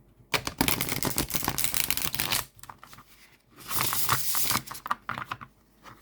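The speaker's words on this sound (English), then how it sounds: "Just absolutely beautiful, beautiful shuffle." A thick deck of Terra Volatile game cards bent and riffle-shuffled, giving two close, crisp bursts of rapid fluttering clicks separated by a short pause, with no talking.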